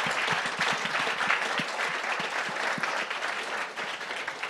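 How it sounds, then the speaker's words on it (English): An audience applauds the panelists at an evening discussion event on NFTs and art, with steady, dense clapping that holds at an even level throughout and no voices. "Let's give a round of applause to our amazing panelists tonight."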